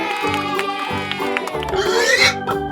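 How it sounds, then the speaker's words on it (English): A pig oinks and grunts in a rapid series of short nasal calls, rising into a louder squeal near the end, close and clear. "What is this round and pink animal? That's right! It's a pig!"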